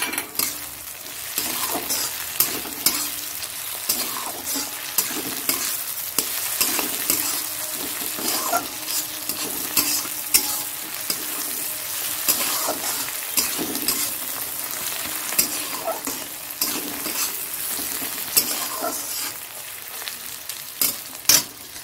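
Tomato frying in a pan with chicken curry cooked with whole spices, a steady close sizzle broken by repeated scraping strokes of a spoon stirring, with no talk.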